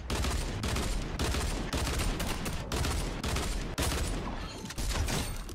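Rapid, sustained weapon fire in the video game Fortnite, dense bursts of shots following one another with brief gaps, loud and close with no voices over it.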